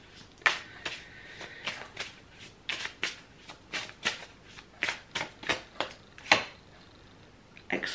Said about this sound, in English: I want to pull some cards from this one.